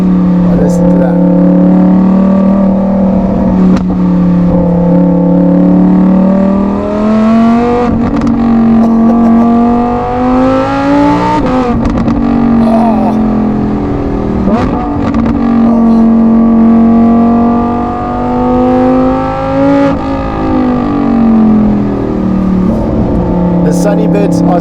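Lamborghini Huracan Tecnica fitted with a Novitec exhaust roars loudly up close, its engine note rising and falling through repeated revs and upshifts over a sustained drive.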